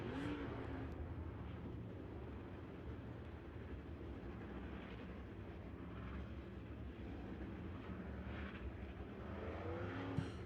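Race cars circle the track at Victory Lane Speedway behind a pace truck during Saturday afternoon racing, a faint, distant engine drone that holds steady throughout.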